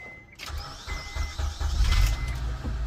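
A 2005 Honda Accord engine turns over with a newly cut replacement key and catches, settling into a steady low idle rumble close by, with a brief whirring starter note at the outset and no voices.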